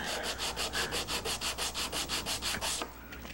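A laminated acrylic pen blank is wet sanded with 220-grit paper, water as lubricant, giving a steady rhythm of about fourteen quick raspy rubbing strokes, close and fairly quiet, then stopping.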